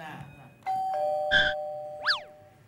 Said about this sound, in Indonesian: Perasaan gua enggak pasang bel loh.